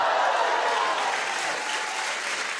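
A TV studio audience applauding, dense steady clapping from a crowd that stays loud and even throughout the short stretch.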